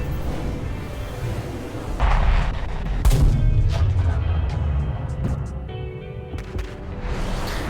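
Aircraft cannon fire in War Thunder comes in rapid bursts with booming impacts over a constant engine roar, loud and close, repeating in several volleys.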